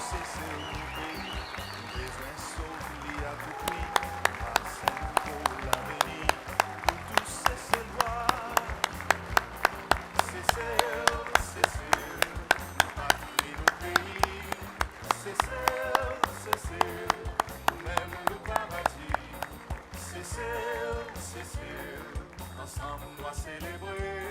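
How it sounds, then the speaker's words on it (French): A standing audience at a political party event applauds presidential and vice-presidential candidates, with long sustained clapping that settles into fast rhythmic unison beats for about twenty seconds before tapering off, voices mixed in. "donner un plus gros applaudissement pour nos candidats présidentiels avec vice-présidentiels"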